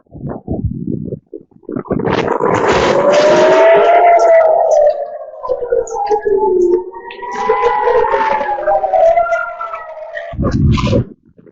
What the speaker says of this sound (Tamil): ஏவுகணை தாக்குதலுக்கு முன் சைரன் ஒழிக்கப்பட்டதால் மக்கள் பாதுகாப்பான இடங்களை தேடி ஓடினர்